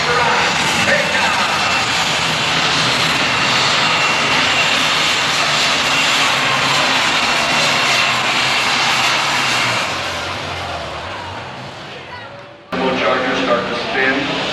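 A 1993 super stock pulling tractor at a Canfield, Ohio tractor pull roars loudly as its turbochargers spool and the revs climb, a sustained high whine that fades toward the end before a sudden burst of noise, with an announcer talking over it.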